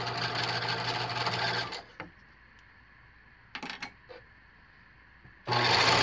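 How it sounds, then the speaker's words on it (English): Sewing machine stitching along the selvage edge of a fabric tent bag, a steady loud whirring run that stops, a few faint clicks and taps, then the motor starts again near the end. "I'm going to be sewing along this edge"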